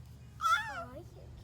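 A single short cat meow on a family farm at a pumpkin patch, close and clear, rising then falling, over a low background hum.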